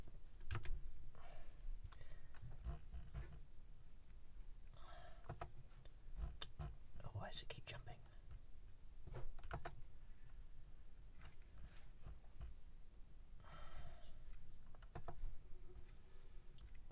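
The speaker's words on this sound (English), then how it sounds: "Wake up the keyboard." Computer keyboard keys tap and click in short irregular bursts at a Raspberry Pi Zero 2 setup, fairly faint and close over a low steady room hum.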